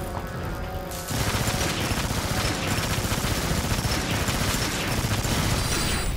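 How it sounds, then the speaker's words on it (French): Sustained machine gun fire blasts loudly and continuously in Transformers: Rise of the Dark Spark, a dense rattling barrage that kicks in after a quieter first second and runs without pause to the end. "J'ai pris une petite mitraillette pour me mettre bien"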